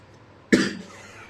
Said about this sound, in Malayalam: ചുമയൊക്കെയാണ്.